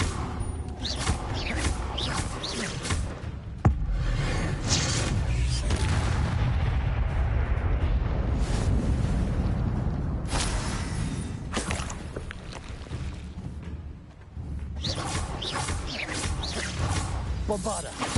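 Bombarda and Confringo spell explosions in the video game Hogwarts Legacy: a steady barrage of booms, blasts and whooshes rolls on nearly without a break. A voice shouts spell names over the combat.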